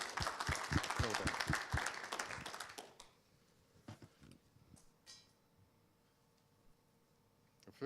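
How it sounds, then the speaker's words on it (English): A school assembly crowd applauds warmly for a student, the clapping dense and loud for about three seconds before it fades into a quiet room with scattered faint taps. "Give her a good round of applause."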